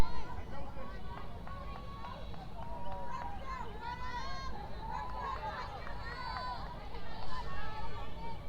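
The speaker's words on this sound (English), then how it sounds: "Great crowd here at Azle High School." Crowd noise at a varsity high school softball game at Azle High School, a steady murmur of spectators with scattered voices and cheers rising and falling throughout, under continuous background chatter.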